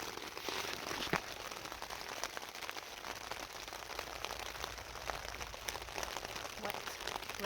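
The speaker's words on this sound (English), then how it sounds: "It is pouring down with rain." Heavy rain pours steadily onto a tent at a campsite in the evening, a dense continuous patter close overhead with a few sharper drops standing out, with no talk over it.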